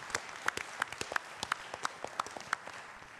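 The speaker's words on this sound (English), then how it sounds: "May I suggest an applause for the two professors?" Sparse applause at an academic panel on the origins of the universe, with a handful of distinct, separate claps ringing out fairly close in an irregular rhythm.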